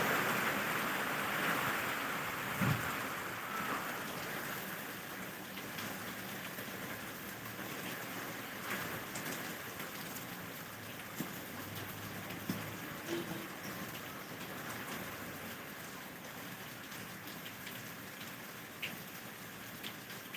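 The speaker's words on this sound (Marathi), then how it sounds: "खूपच पाऊस वाढलेला आहे" A long stretch of heavy, steady rainfall, a constant loud hiss with occasional faint thuds and drips, no talking.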